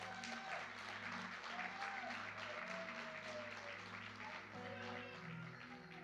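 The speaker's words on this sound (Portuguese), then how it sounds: "Será que você pode dar mais um aplauso ao Senhor?" A church congregation applauds steadily for several seconds in a sustained burst of clapping, with faint voices underneath.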